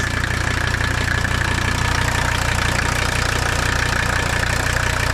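A 1985 Mercedes 300D diesel engine idles steadily and continuously, with a broad rumble and a constant mid-range clatter throughout, close by and unbroken by talk.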